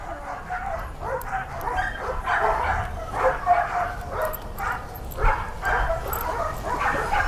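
An aggressive dog in Vietnam is held on a short leash and gives repeated yips, barks and strained whimpers in a steady, irregular series at close range, over low background noise.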